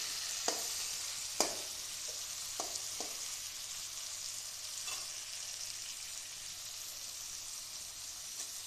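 Onion and tomato pieces fry in a pan with a steady soft sizzle, broken by a few sharp clicks and scrapes of stirring, close and moderately loud throughout.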